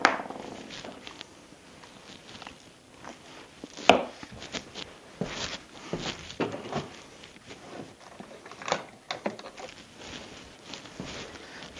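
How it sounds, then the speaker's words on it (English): A razor knife scrapes and cuts back the insulation on a cable end, heard as scattered close scratching strokes and light taps, with one sharper snap early on. "We have to cut this insulation back."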